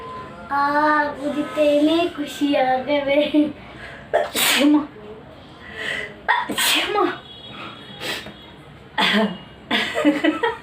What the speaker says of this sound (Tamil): இப்போ வந்து தும்மல் வருது.